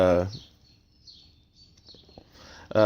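Faint birds chirp in the distance during a quiet pause, with a person talking just before and after.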